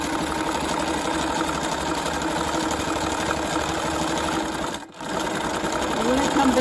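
Sewing machine stitching slowly back over machine-wrapped cord, a steady close mechanical whirr running continuously with one brief pause near the end, while a person talks over it.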